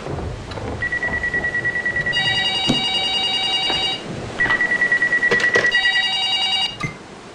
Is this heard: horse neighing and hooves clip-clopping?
no